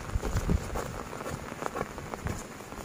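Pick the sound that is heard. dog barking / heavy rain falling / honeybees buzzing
heavy rain falling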